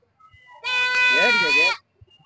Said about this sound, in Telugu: ఈ మేకలు ఓకే అన్న